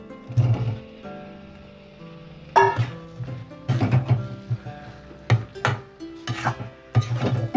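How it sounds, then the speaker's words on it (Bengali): Small new potatoes tipped into a pan of cooked-down masala, then stirred with a utensil: a run of scraping, knocking strokes against the pan in uneven bursts, close and fairly loud, with no talking. "এবার আলুগুলো সব ঢেলে দেব"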